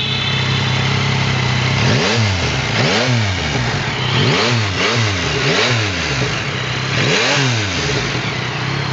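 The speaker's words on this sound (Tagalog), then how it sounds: "Yan ang tunog ng Yamaha MT-09 Inline 3." A Yamaha MT-09 inline-three motorcycle engine revved hard several times in a row, each loud blip rising and falling over a steady close idle.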